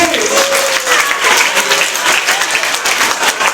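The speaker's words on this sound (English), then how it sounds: "Can we give Amin a big round of applause?" An audience at a school session claps for a student participant, loud and continuous applause filling the room with a steady crackle of many hands and some murmured voices underneath.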